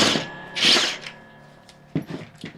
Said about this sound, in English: I'm going to use a 3/4 inch impact wrench. This is the Makita TW001G